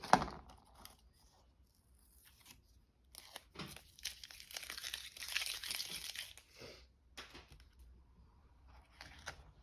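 Paper being cut for a junk journal craft project, giving intermittent crisp snipping and crinkling bursts at close range, with a quiet spoken aside between the cuts.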